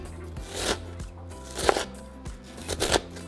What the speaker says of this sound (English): we're going to grab 1/4 of a white onion and we're going to do the same